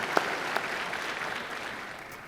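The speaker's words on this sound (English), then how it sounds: "Let's give that a clap." Luncheon guests at a provincial address by a premier break into a wash of applause, with a few sharp claps standing out early before the clapping settles into a steady, moderately loud roar.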